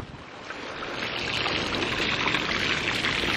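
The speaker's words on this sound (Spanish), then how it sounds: "Grifo dado y agua saliendo." Water gushes steadily from an opened tap into a home swimming pool, a loud continuous rushing splash that builds slightly in the first second and then holds.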